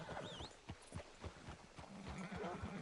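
A horse in the Western video game Red Dead Redemption, with hoofbeats clopping in an irregular rhythm and a brief whinny near the start, heard close against a busy ambient background.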